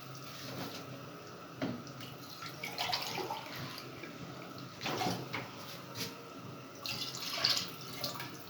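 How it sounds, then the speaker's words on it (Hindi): Water poured into a pot of arvi gosht (taro and meat curry) after frying: a soft, steady splashing stream with a few clinks and knocks, fairly quiet and without talk. "अब मैं इसमें पानी डाल रही हूँ जितना मुझे इसका शोरबा"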